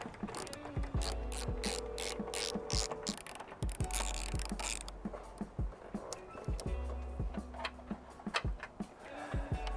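A ratchet backs out 10mm bolts from the taillight of a 10th-generation Honda Civic sedan, giving rapid, close clicking runs in repeated bursts with short pauses between strokes.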